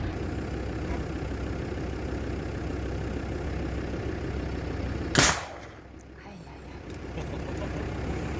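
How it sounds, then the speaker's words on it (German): One sharp, loud bang cuts through a steady engine-like rumble, fading quickly afterward. A bird-scaring cannon firing somewhere nearby in Croatia. "Die Kanone, wo die hier gegen die Tiere knallen."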